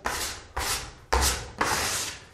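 A putty knife spreads filler along a taped joint in a plasterboard ceiling in four firm, scraping strokes, each a rough swish that starts sharply and then tails off, close and with no talk.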